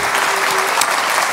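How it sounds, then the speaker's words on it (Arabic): Studio audience applause at a comedy show, a dense, steady patter of many hands clapping at an even loudness for just over a second. "بلا تصفيق"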